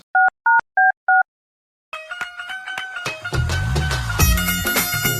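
A telephone number is dialed with four short, evenly spaced touch-tone beeps, followed by a pause and then a burst of ringing and line tones mixed with background noise.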